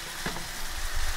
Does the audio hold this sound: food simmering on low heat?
yes